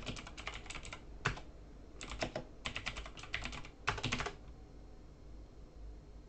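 Fingers tap out a password on a computer keyboard in quick close clusters of clicks, several short bursts with brief pauses between, then quiet room tone.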